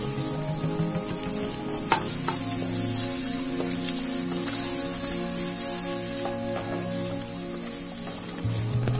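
Crushed or pasted garlic fries in hot oil in a frying pan, producing a continuous close sizzle with occasional stirring scrapes and no talking.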